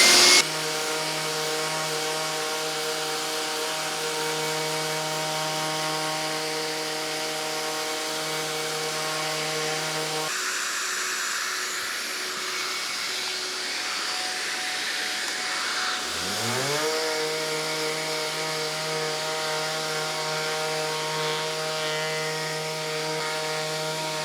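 A loud, steady drone from a random orbital sander on wood runs throughout, its pitch dipping briefly near the middle before winding back up, with no talking.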